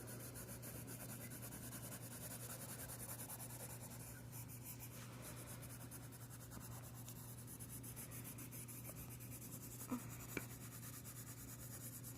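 Prismacolor colored pencils scratch and rub across paper in a quiet, continuous scribbling texture, close and faint over a low steady hum, with a couple of tiny clicks near the end.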